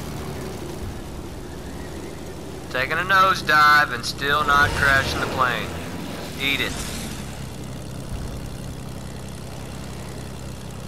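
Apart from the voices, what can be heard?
airplane engine in flight, from the video game Fortnite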